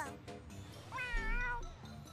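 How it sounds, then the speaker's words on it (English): Rolo the cat meowing in the video game Tales of Xillia 2: one drawn-out, wavering meow near the middle, close and clear over a faint background with soft earlier sounds. "This cat belongs to our biggest advertiser"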